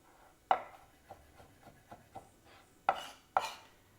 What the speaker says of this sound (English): Now I can just focus on julienning my tomatoes